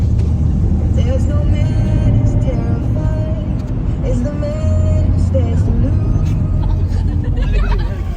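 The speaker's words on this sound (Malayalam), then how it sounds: "എൻ്റെ കാർ എടുത്തു" A car engine rumbles steadily from inside the vehicle while driving around Baguio, a continuous low drone with road noise and a murmur of voices in the background throughout.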